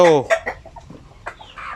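Native chickens cluck in a few short, close calls, with quieter scattered clucks and a faint voice in the background.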